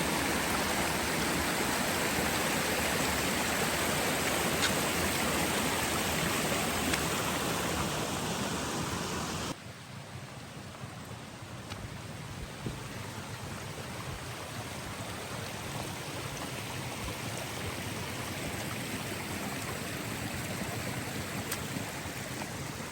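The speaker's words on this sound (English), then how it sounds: "Okay, this is quite a theme for the day. Water crossings." A flowing stream at a water crossing on a hiking trail rushes steadily and loudly, a dense broadband wash that continues without a break and eases slightly partway through.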